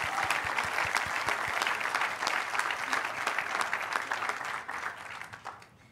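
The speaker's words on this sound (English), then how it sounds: "Let's give them one more round of applause." Sustained applause from the audience at a university sociology departmental graduation ceremony, steady and full across the room before thinning out at the very end.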